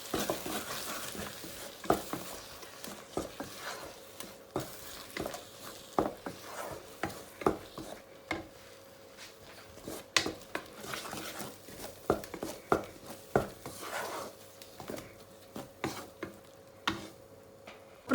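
A spoon stirs tomato paste, garlic and ginger in a pan, giving repeated soft scrapes and clicks over a low sizzle, close and moderately quiet, with no voices.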